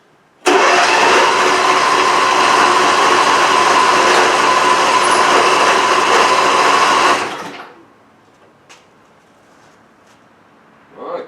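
A Massey Ferguson riding mower engine cranks and catches, running with a loud, steady buzzing drone for about seven seconds before cutting off, followed by faint clicks and near silence.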